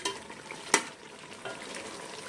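Spices for Hyderabadi chicken korma fry in a pan with a soft continuous sizzle, broken by one sharp clink of a spoon against the pan and some light stirring scrapes close by.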